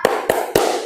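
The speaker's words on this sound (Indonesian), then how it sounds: "Tepuk semangat." A steady run of three hand claps, close and bright, with even spacing, part of a classroom spirit-clap chant, no voices heard over the beats.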